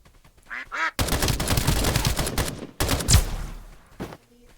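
Sustained automatic gunfire in the video game Escape From Duckov rattles close and loud in two long bursts, preceded by a few duck quacks and followed by fading echoes.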